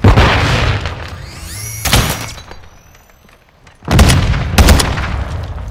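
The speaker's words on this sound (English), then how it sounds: "Throwing flash grenade!" A flash grenade bursts in Call of Duty: Modern Warfare II multiplayer, loud booming blasts and sharp gunfire-like cracks, a brief lull, then more heavy explosive impacts close by.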